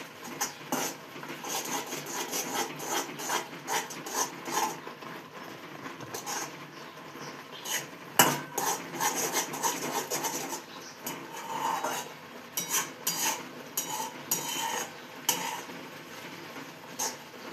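Carrot halwa with milk being stirred in a pan, a steady run of close scraping and rasping strokes against the metal with occasional sharper knocks, continuous with no talk.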